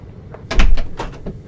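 A door is opened in a radio drama, with a quick series of close wooden knocks and latch clatters followed by a soft scrape as it swings, loud and without talk.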